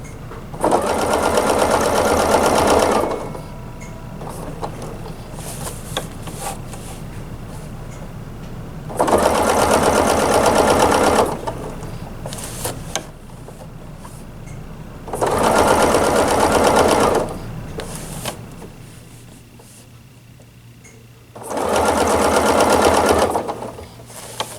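A sewing machine stitching rows on a table runner, running in four loud bursts of steady rapid whirring separated by quieter pauses with a low hum.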